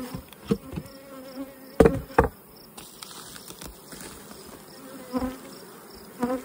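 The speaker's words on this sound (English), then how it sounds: "So those are BC bees." Bees buzzing at a hive during the last days of the nectar flow, a dense close-up drone with individual insects zipping past the microphone and a few soft knocks scattered through it.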